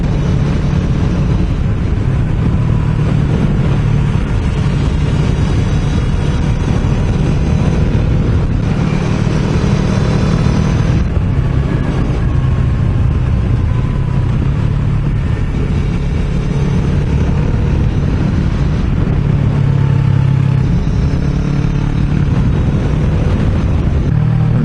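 A car cruising in sixth gear on a road trip through the Harz region, a loud, steady low engine drone blended with road and wind rumble, continuous and unbroken throughout.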